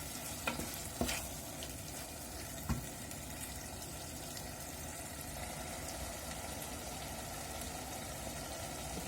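A minced-meat pide filling stirred after a spoonful of sugar goes in: a few spoon knocks and scrapes early on, then a low, steady wash of noise.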